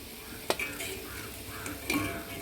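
Crisp fried rice flour chips shift and rattle inside a vessel. Two sharp clatters stand out against a light, continuous rustling, heard up close over about two seconds.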